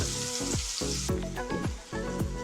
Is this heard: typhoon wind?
no